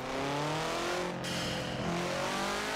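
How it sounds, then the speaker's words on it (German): A Subaru WRX in Forza Horizon 4 roars along under load, its engine tones sweeping through gear changes, with a brief gap where the turbo blow-off exhales before the drone resumes, loud and close throughout. "sehr krasses Ausatmen des Turbos"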